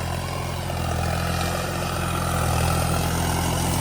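Tractor engine fitted with a Garrett turbo, running steadily at a constant loud drone with a low rumble and an even turbo whine, no talk over it.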